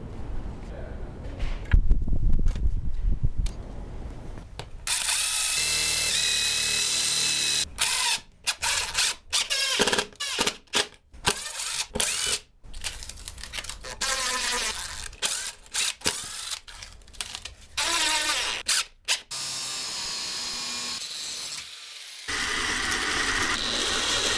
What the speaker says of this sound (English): I can drill some holes and throw some screws in there